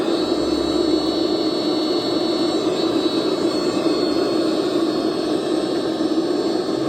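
A steady, loud engine drone from a warmed-up Safari vehicle, with a constant whine, running evenly without pause throughout.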